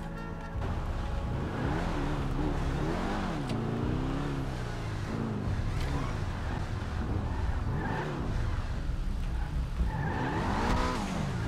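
A car in GTA V roleplay revs and accelerates, its engine pitch rising and falling through gear changes, with occasional tire squeals, steady and fairly close with no talk over it.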